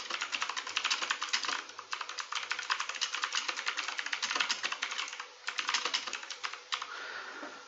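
Computer keyboard typing while entering a description for a scenario document, fast uneven bursts of keystrokes close by with a brief pause near the middle, with no voices.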